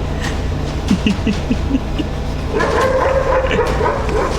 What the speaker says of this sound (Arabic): اوعى الكلب يعضك يالا. الكلب جه وراه